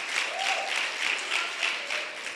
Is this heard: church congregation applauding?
yes